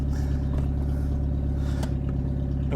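Fiat Panda project car with its whole back end removed, being driven: a steady, loud mid-pitched engine drone with rattling clatter, heard up close and alone.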